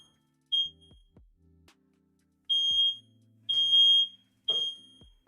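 A home smoke alarm sounds four loud, piercing, high-pitched beeps with gaps between them, alongside a few low thumps and clicks from the room. No one speaks.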